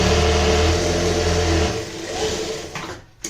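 Sewing machine stitching the edge of a kurti runs steadily at close range, then slows and winds down into quieter mechanical clicking and handling noise.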